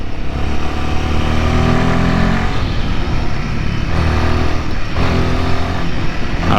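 A Royal Enfield Himalayan 450 motorcycle riding through mud, its engine droning loud and close with a steady thrum, the pitch dipping and rising as the throttle shifts.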